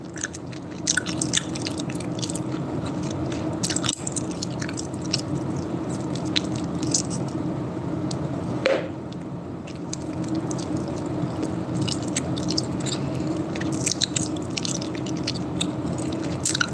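Gum being chewed close to the microphone, soft wet squishing and smacking repeating steadily over a faint background hum, with no speech.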